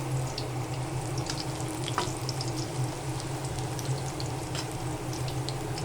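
Bottle gourd fritters frying in oil in a wok, a continuous close crackling sizzle with scattered pops throughout and no talking.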